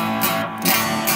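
Electric guitar driven through a Green JRC overdrive pedal into the front of a Quilter amp, a short burst of thick, gritty distorted tone with two swelling strums, close and loud, no talking.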